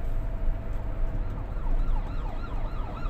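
An ambulance siren wails up and down in a repeating pattern, moderately distant, over low rumbling traffic noise.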